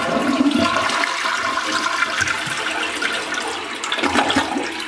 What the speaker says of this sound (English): Let's look at that flush.